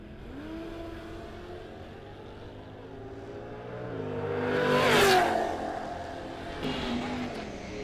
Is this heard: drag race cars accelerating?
yes